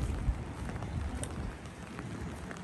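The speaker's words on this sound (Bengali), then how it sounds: "আজ বৃষ্টি ভেজা দিন" Steady rain on a grey, wet day, forming an even hiss of falling drops with a soft low rumble beneath, continuous and moderately close, with no talking.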